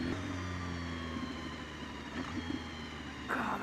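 A 2016 BMW S 1000 RR motorcycle engine running and revving through gear shifts, a moderate steady engine hum with pitch changes and a brief rise in revs near the end, heard at a distance.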